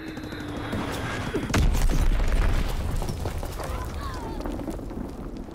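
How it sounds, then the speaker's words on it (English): Enemy bomb exploding in a WWII video game hardpoint match: a deep, loud boom bursts in the middle of continuous battle noise and scattered gunfire, with voices heard in the clip. "Enemy bomb incoming."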